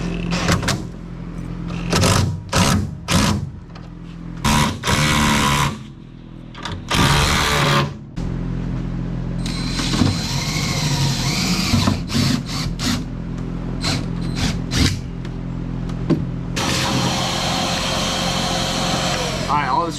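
An impact driver runs repeatedly in short bursts, driving screws into a jon boat during a DIY build, with whirring and hammering pulses and a few longer runs.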